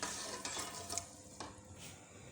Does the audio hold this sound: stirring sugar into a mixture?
yes